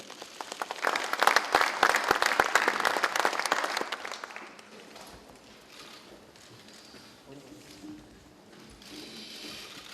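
Applause from the audience at a Korean party joint meeting of National Assembly members-elect and party committee members, welcoming the floor leader to speak; loud dense clapping for about four seconds, then fading into quieter room noise and scattered claps.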